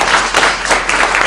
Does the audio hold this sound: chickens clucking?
no